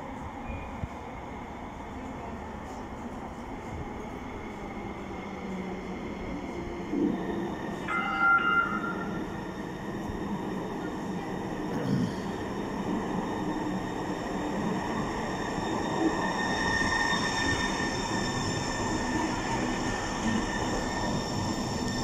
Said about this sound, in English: Please stand behind the yellow line until the train stops.